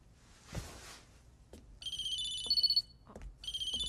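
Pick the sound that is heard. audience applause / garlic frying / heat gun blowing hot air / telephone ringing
telephone ringing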